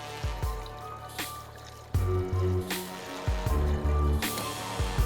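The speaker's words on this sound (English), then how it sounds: "So I'm going to add in my 2 cups of Bacardi." Bacardi rum pours and trickles in bursts into a punch bowl, with low thuds and splashes between the pours.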